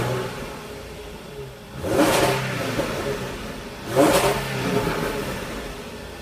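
A Jaguar F-Type S with a supercharged V6 idles, then gives two sharp throttle blips a couple of seconds apart. Each rev surges loudly and falls back to a steady idle, heard up close with no talking.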